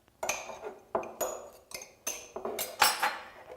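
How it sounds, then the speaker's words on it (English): A knife chops roughly a quarter of a banana in a dish for a banana and yogurt face mask. Six or seven sharp, close knocks with a slight clink land against the dish at a steady, unhurried rhythm. "take roughly a quarter of a banana into a dish, roughly chop it up"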